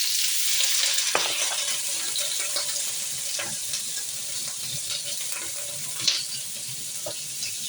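Pork ribs sizzle steadily in a hot pan, a continuous bright frying hiss with scattered pops and spatters, close and fairly loud with no talking.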